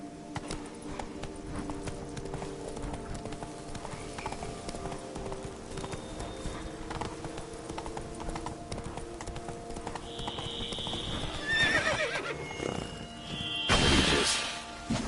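A horse in a video game gallops with steady clip-clop hoofbeats throughout, then neighs loudly near the end over game music and ambience.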